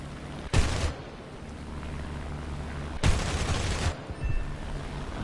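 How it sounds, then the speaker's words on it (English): MG 151 aircraft cannons firing in the War Thunder flight game: two short loud bursts about two and a half seconds apart over a steady engine drone, the second followed by a brief trailing rattle. "maybe the MG151s aren't that bad to aim after all."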